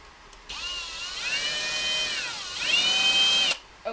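A power drill drives an M3 screw into a rocket part. A loud, close whine runs for about three seconds, its pitch rising and dipping as the motor speeds up and slows under load.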